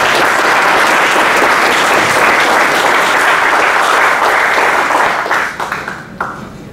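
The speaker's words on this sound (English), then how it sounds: "Let's welcome him with a big round of applause." Sustained applause from an audience welcoming a guest speaker at an XLRI industry expert lecture, a steady dense wall of clapping for about five seconds that then thins out and fades.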